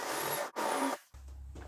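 A step drill bores holes for rivet nuts while prepping an S550 Mustang, giving two loud, steady whirring bursts separated by a short pause, followed by a quieter, lower hum.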